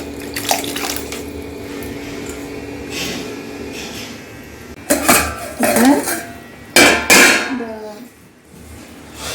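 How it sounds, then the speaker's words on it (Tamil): Hand-crushed tomato poured into a pot of mutton soup in a home kitchen, heard as a few loud wet sloshing and clattering bursts against the pot after a stretch of steady background hiss, with no talk. "தக்காளியை நல்லா கரைச்சி வச்சுருக்கேன் கையால் கரைச்சி வச்சுருக்கேன் இந்த தக்காளியை இதில் ஊற்றிக்குவேன்"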